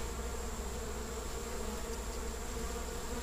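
Uruçu Boca de Renda stingless bees buzz defensively around a hive, a faint, continuous hum that stays steady and close with no voices.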